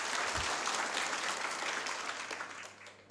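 An audience at a Successmore business meeting applauds its leaders, dense continuous clapping from a sizeable crowd that stays full and then gradually thins and fades toward the end.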